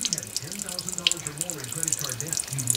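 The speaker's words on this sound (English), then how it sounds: "there's all the water coming out of this side now" Trapped water drains from the frame of an Ice Castle fish house trailer, a steady close splashing trickle that runs continuously with no break.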